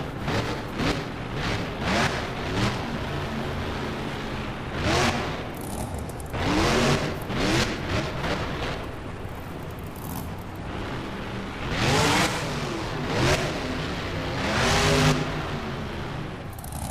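A monster truck engine in the BeamNG Drive freestyle game roars steadily and close, surging through repeated revs as the truck launches a sky wheelie off a center ramp, with no talking.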